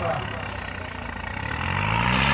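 A homemade jugaad tractor's engine rumbles nearby at a tractor competition in Nurmahal, its low drone building and revving slightly louder toward the end, with some background voices mixed in.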